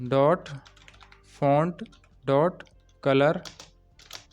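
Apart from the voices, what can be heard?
typing code on a computer keyboard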